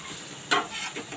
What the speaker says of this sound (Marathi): मी इकडे 1 कांदाच घेतलेला आहे. आपण परत परतून घेऊया.